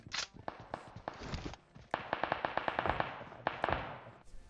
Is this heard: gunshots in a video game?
yes